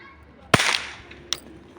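A toy pistol is fired into the air outdoors, one sharp loud crack with a short ringing tail, then a second fainter snap about a second later.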